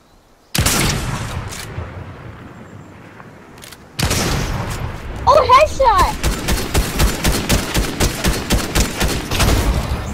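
Gunfire in a first-person shooter game crackles in a rapid burst of sharp shots, with repeated close bangs continuing steadily over background game noise and a short pause early on.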